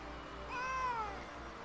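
A cat gives a single clear, rising-then-falling meow, close and fairly loud, over a quiet indoor background.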